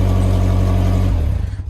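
A 2016 Harley-Davidson CVO motorcycle engine runs with a steady, loud low-pitched rumble, then its tone drops and loosens near the end as the revs fall off.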